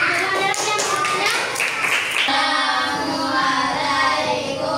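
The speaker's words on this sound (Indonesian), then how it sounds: "Silakan beri tepuk tangan" Classroom applause for a student group during a computational-thinking lesson, a burst of brisk hand clapping mixed with children's voices that settles into steadier, softer chatter after a couple of seconds.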